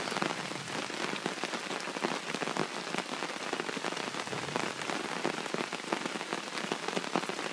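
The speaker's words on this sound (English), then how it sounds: "Rain sounds nice." Steady, dense rain pattering on a tarp over a hammock, a constant close crackle of drops with no pauses.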